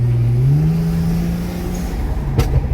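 A BMW 335i with the N54 engine, boost leak fixed, accelerates hard in third gear. The loud engine note climbs steadily from inside the car, then ends in a sharp knock-like burst.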